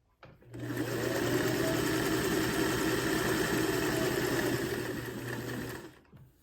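Sewing machine chain-stitching bag pockets one after another, a fast steady mechanical whir with rapid needle ticking that runs without pause for several seconds, then winds down to stop.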